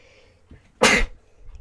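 A single sharp, loud sneeze from a person bursts out close by, brief and explosive, amid quiet background with faint game sounds.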